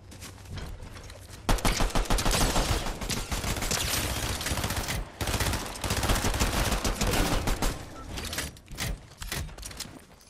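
Rapid bursts of gunfire in a Fortnite trios match, dense overlapping volleys with brief pauses, loud and close, with no talking.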